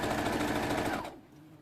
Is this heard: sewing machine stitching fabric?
yes